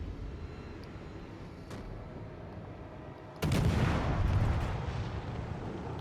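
5-inch naval guns fire aboard the legendary cruiser Jinan in World of Warships Legends: a faint distant boom first, then a sudden loud blast that rolls into a sustained rumbling roar.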